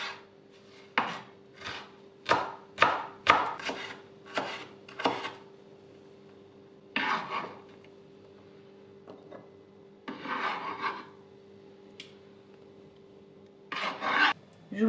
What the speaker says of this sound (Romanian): un ardei gras galben tăiat în cubulețe